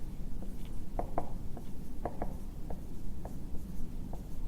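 Someone writes on a board during a physics lesson on kinematic equations. Short scratchy strokes and taps come in small irregular bursts over a quiet room, and no one speaks.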